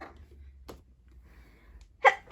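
A single sharp sneeze bursts out near the end during a tabletop game of Teddy Wars, loud and close after a quiet stretch with faint background noise.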